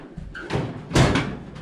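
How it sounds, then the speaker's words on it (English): A tool chest drawer rolling open and then sliding shut with a firm thump, close by, with light rattling between. "All the drawers open real nice, well, real nice and smooth."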